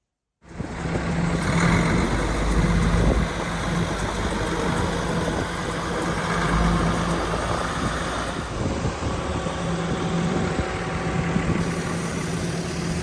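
A T-170 crawler tractor fitted with a DAF engine idles steadily nearby, a continuous loud diesel rumble and whine that holds without pause after a sudden start.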